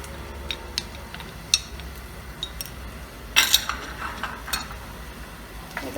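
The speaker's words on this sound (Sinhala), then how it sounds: "ඒක පොඩ්ඩක් කලවම් කරලා" Spices for a pineapple curry being stirred in a pan, with sharp utensil clicks and scrapes against the metal. The light taps come irregularly over a quiet background, with no talk.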